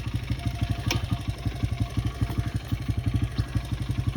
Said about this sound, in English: we're gonna leave that here idling